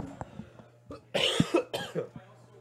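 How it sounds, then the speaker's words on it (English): A few quiet coughs in quick succession, rough and throaty, from someone nearby, with brief pauses between them. "Oh my gosh, my cough."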